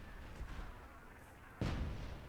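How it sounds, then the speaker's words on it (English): A mortar shot in the fantasy strategy game Myth II: Soulblighter, a single sudden muffled boom cutting in over low rumbling battle ambience. "Nice mortar shot there from Asmodean."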